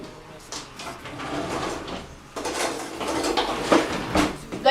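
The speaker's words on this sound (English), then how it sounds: "going to use a small spoon and mix it around" Small spoon clinking and swirling in a glass of freshly blended weight-loss juice, close and fairly loud, with repeated tinkling knocks and rattles across the stir and no voice.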